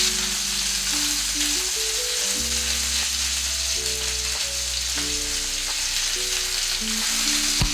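Parmesan herb crusted chicken fries in a pan with a constant, close sizzle and crackle, a dense even hiss with occasional pops and no voices.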